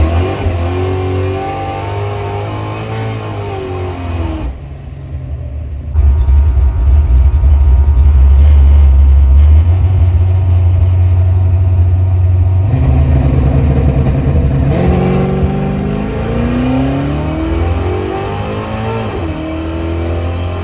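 Car engine at a track day, revving hard through repeated motor pulls: loud and close, with pitch sweeping up and falling back, a sustained roaring pull in the middle and more rising revs after it.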